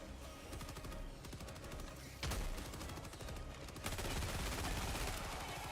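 Steady rapid gunfire from a soldier's rifle in Helldivers 2, continuous close bursts of shots with a louder surge partway through.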